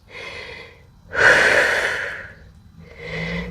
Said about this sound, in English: Breathe a few times.